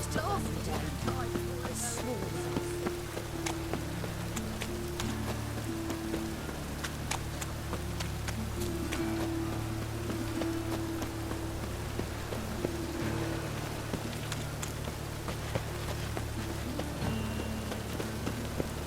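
Rain falls steadily in the video game The Witcher 3 Wild Hunt, a constant patter of drops on surfaces with a low ambient drone beneath and occasional faint movement sounds.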